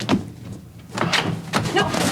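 A door in a tense indoor scene gives a few short dull knocks or thumps spaced out over a couple of seconds, with faint breathy voices underneath.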